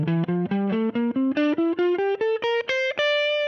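Electric guitar running a Mixolydian scale up across all six strings, a steady ascending run of about fifteen evenly picked notes with a bright, slightly driven tone, ending on a sustained high note.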